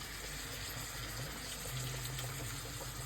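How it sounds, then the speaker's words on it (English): Water gushes steadily into spaghetti sauce for homemade lasagna, a continuous faint rushing wash with no talking. "So I'm gonna add a little bit more water"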